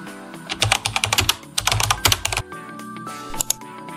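Rapid bursts of keystrokes on a computer keyboard, close and crisp, in quick clusters with short pauses, alone without talk.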